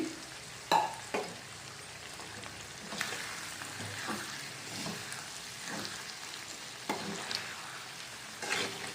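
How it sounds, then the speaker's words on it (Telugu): Chicken and boiled gongura leaves being stirred together in a hot frying pan: a steady close sizzle with occasional scraping and clacking strokes from the stirring, and no voices. "ఈ ఉడికించిన గోంగూర ఉంది కదా అది కూడా ఇందులో వేసేసుకోవాలి వేసుకుని ఒకసారి అంతా కూడా మిక్స్ చేసుకోవాలండి"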